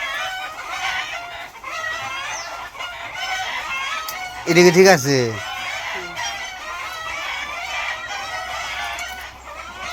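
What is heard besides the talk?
hen clucking after laying an egg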